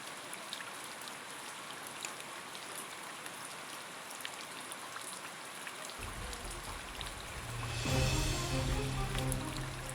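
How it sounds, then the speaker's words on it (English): Heavy storm rain pours down in a dense, steady hiss, joined partway through by a low rumble that swells louder near the end. "Heavy rain led to widespread flooding across eastern Massachusetts Tuesday."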